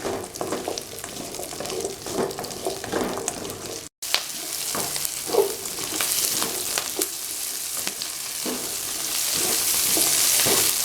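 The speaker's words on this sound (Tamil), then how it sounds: "பூண்டு, கருவேப்பிலை நல்லா வதக்கலாம்" Ginger, garlic and curry leaves are sautéed in hot oil for a brinjal curry, giving a steady close sizzle and frying crackle with occasional stirring scrapes, interrupted by a brief dropout before the sizzle builds louder again.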